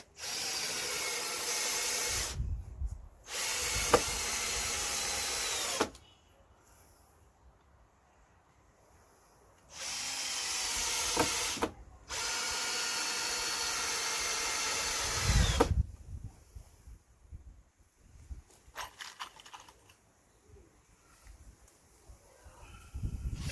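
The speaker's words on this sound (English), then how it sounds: "Put a few screws in each shelf" A power drill drives screws into wooden pallet garden shelves in two separate bursts of two long whirring runs each, loud and close, with quiet handling noise between them.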